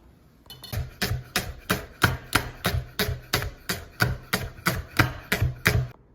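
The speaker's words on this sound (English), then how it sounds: "The thinner we cut them and the more uniform we cut them, the quicker and more even they are going to cook." Leeks are sliced thinly with a knife on a board in a fast, even rhythm of about sixteen crisp, close chops, alone and without speech.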